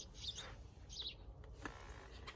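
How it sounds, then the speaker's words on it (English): Small birds chirp outdoors among trees on a winter day, a few short, bright calls rising over faint ambient background noise. "My goodness, we've got more birds."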